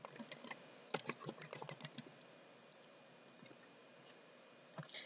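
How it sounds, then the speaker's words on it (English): Rapid typing on a computer keyboard, close and fairly quiet, with bursts of clustered key clicks in the first two seconds, a pause, then a few more keystrokes near the end, no talk over it. "Bear with me, I'm typing."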